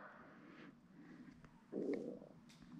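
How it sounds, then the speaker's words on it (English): A low, gurgling stomach rumble swells briefly in a quiet room, standing out for a moment against faint background noise. "That was my stomach."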